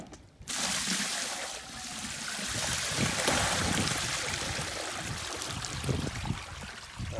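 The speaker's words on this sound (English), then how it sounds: "Now I'm going to take this rock out of here and pour this nasty hide water on our driveway." Nasty hide-soaking water from tanning hides poured out of a container onto a driveway: a sudden gush that becomes a steady splashing, rushing pour lasting several seconds, close and fairly loud.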